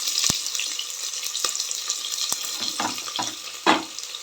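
Two crosswise-cut onions sizzle in a pan for a potato sago khichdi, a moderate hiss with a few sharp clinks and spoon scrapes scattered through, one louder clatter near the end.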